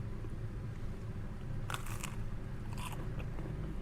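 Crunchy Gapin Pape snack bought in Jakarta's Chinatown gets bitten, giving two crisp crunches close to the mic, separated by a brief pause against faint background hum.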